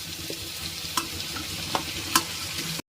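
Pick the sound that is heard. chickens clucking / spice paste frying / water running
spice paste frying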